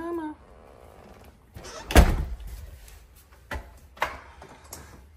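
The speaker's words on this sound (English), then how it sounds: "Come on, push the door, push it." A dog pushes open the door of a house: a soft scrape, then a loud wooden thunk, followed by a couple of lighter knocks and rattles against a quiet room background.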